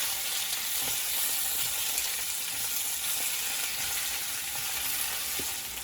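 Fresh spinach leaves sizzle steadily in a hot pan while being tossed, a continuous close frying hiss with faint stirring clicks throughout, no talking.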